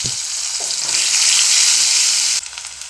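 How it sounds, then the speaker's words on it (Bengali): Onions frying in oil in a pan for a local crab curry, with a few grains of raw salt added, give a loud, steady, close sizzle that runs unbroken for about three seconds, with no voices. "পেঁয়াজটিকে সুন্দর করে ভাজার জন্য একটু কাঁচা লবণ দিয়ে দেওয়া হলো"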